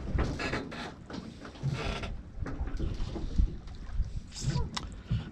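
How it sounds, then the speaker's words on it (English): A sailboat's worn outhaul creaks as the boat bounces on wind waves, with irregular rubbing creaks over wind and water noise close to the microphone and no clear speech. "Definitely need a new outhaul. That's what's creaking."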